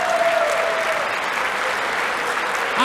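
Sustained audience applause for a stand-up comedian during a live comedy set, steady clapping filling the room from start to end with a faint voice briefly audible underneath.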